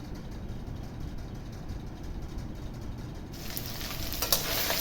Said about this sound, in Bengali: মাছের মাথাগুলো খুব ভালো করে সেইভাবে ভেঙে আমি ভেজে নিলাম